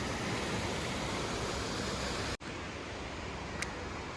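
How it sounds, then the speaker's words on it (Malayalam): Waterfall at Vellathooval on the Adimali to Theni route, a steady, dense roar of falling water filling the scene without pause, with a brief dropout midway. "വെള്ളത്തൂൽ എന്ന സ്ഥലത്തെ വെള്ളച്ചാട്ടമാണ് ഈ കാണുന്നത്."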